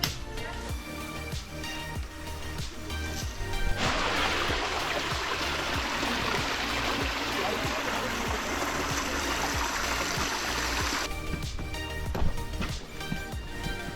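Water in a stream in the Arizona back country makes a steady broadband rush for several seconds, framed before and after by a busier mix of outdoor sounds, fairly faint overall.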